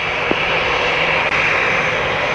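Jet airliner engines at Montego Bay's Sangster airport, a loud steady roaring whine close by, constant and unbroken throughout.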